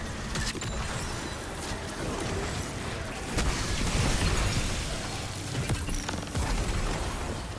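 Repeated booming grenade-launcher explosions in the video game Destiny 2, set against a dense, continuous battle din, with louder blasts around the middle and again near the end.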